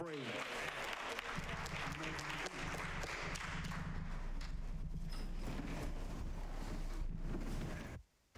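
A Baptist church congregation claps in praise, a dense burst of hands with organ or instrumental tones underneath and voices mingling in, fading into quieter clapping before cutting out near the end.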